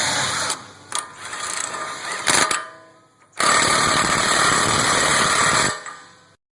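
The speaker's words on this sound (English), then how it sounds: "Then you want to tighten down your 36mm axle nut." Impact wrench tightening a 36mm axle nut on a front wheel bearing hub assembly, torqued to 173 foot-pounds; loud, close mechanical hammering in several bursts with short pauses between.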